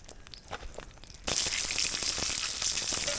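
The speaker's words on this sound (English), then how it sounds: "We've got that sizzle happening." Meat sizzling in olive oil in a pan in a woodland cabin kitchen, a steady crackling hiss that starts abruptly and holds loud and constant.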